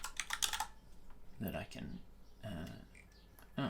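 Computer keyboard typing with rapid clustered keystrokes, close and fairly loud, with a voice and some grunting sounds mixed between the bursts of clicks.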